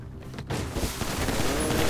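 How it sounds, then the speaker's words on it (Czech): A dense, sustained rumble of gunfire and explosive booms fills the scene in the video game GTA 5, loud and continuous after a brief quieter moment at the start. "ten skurvisin po mě střílí"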